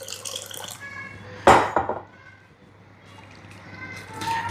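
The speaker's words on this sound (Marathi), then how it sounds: "तर त्यामुळे थोडंसं पाणी टाकून घेऊयात" A small amount of water is poured into a sorghum flour batter, giving one short splash in the middle of a quiet kitchen, followed by a couple of faint drips.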